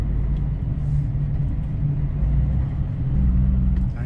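Road traffic on São Paulo's Marginal Tietê highway near the Ponte das Bandeiras at dawn, with a truck driving over patched asphalt: a steady, loud low rumble of engines and tyres, swelling slightly toward the end.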